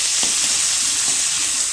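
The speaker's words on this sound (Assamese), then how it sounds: "এইফালে ব্ৰইলাৰখিনি ফ্ৰাই কৰি আছোঁ" Broiler chicken frying in a pan gives a steady, close hiss and sizzle that runs unbroken from start to finish.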